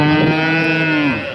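A single long, loud moo from a cow at a cattle market, close by and lowing steadily for over a second before it tapers off.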